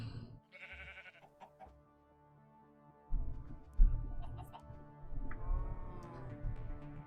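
Sheep bleating in modded Minecraft, several separate bleats at moderate level across the stretch, with game background sounds and no talking.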